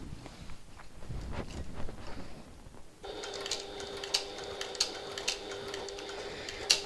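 A sewing machine stitches over the first stitches of a reversible hobo bag, starting after some quiet handling noise and then whirring steadily with faint ticking clicks, close and fairly soft.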